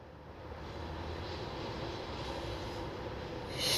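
A drone flies over water in Switzerland, its motors giving a steady, even whirring hum that holds at a constant level throughout, with no voices.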